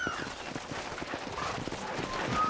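Horse hooves clip-clopping at a steady walking rhythm in the Red Dead Redemption video game, moderately close, mixed with a soft ambient bed and no talking.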